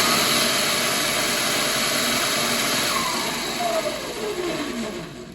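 A 2000W MY1020 electric motor on a 60V Razor Ground Force drift kart spins up in mode 2, giving a steady loud whine and whir with a rising tone that holds for several seconds before easing slightly.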